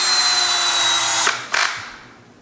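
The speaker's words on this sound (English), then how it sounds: "drill this in" A power drill whirs loudly and steadily while driving a screw into a wooden piece, stops, then gives a short final burst before winding down.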